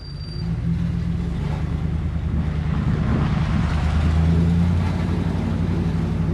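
A truck engine revs steadily under throttle, with a low rumbling drone and a faint ticking from an exhaust leak, recorded close up in a parking lot with some wind noise and no talking.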